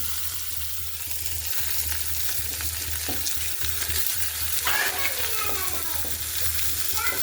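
Chopped onion frying in oil in a wok, a continuous sizzle with occasional clinks and scraping from stirring, close and fairly loud throughout.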